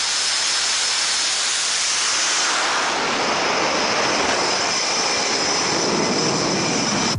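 Jet engine blast roaring behind a jet on an aircraft carrier deck, a loud, close, hissing roar that swells and then holds steady and intense to the end.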